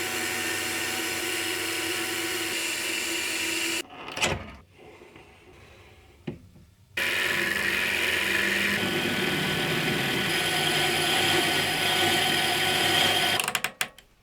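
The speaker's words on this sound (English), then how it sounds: "Now I am machining the centering collar, which has to have a really close fit on the spindle nose of the machine" A lathe cuts the centering collar of a collet chuck flange to fit the spindle nose, a steady whirring machining drone broken by a few seconds of near quiet with short clicks, then resuming to a sharp clatter at the end.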